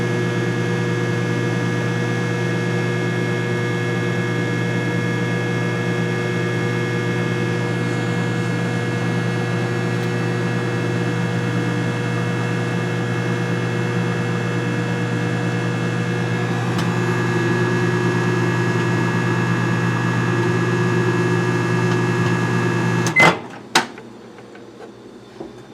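A microwave oven runs while cooking two eggs, a steady loud mechanical hum close by for over twenty seconds. It stops near the end with a couple of clunks and clicks.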